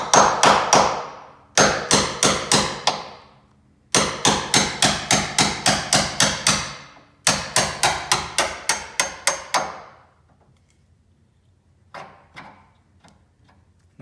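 Repeated hammer blows on a steel punch driving out a corroded door hinge pin on a Jeep Wrangler JK, sharp metallic strikes in quick bursts of several hits each, close and loud, tapering to a few scattered taps at the end.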